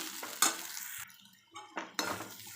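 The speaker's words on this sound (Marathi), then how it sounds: "आता पोहे एकजीव करून घेऊया आपण" Poha, flattened rice, being stirred and mixed in a pan for Malvani-style kanda poha, giving scraping, clattering bursts of spoon on metal separated by short quieter gaps, close and fairly loud with no talking.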